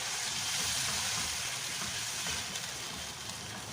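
Hot lentil cooking water is poured over hot rice and vermicelli while making koshari, giving a close, continuous broadband hiss and sizzle that eases slightly toward the end.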